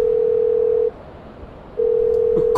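A telephone dial tone sounds, cuts out for a moment, resumes, then a quick burst of dialing clicks ends it; close, clear and alone.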